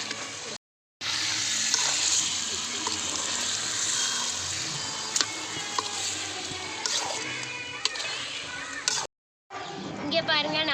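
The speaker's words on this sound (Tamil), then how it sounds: "சிக்கனில் இருக்கிற தண்ணியை வச்சு நம்ம இப்போ வதக்கிக்கலாம்." Chicken pieces frying in their own released water for a village-style chicken chukka, a steady loud sizzle filling the clip with two brief silent cuts, occasional stirring clinks and a short bubbling burst near the end.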